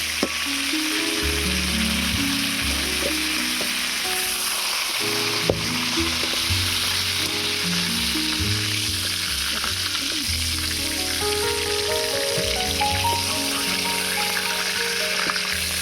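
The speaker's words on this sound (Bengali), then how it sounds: "এবারে পটলটাকে ভালো করে ভেজে নেব।" Pointed gourd (potol) frying in oil, a continuous close hiss and crackle of sizzling with light stirring knocks throughout, steady and unbroken, no talking.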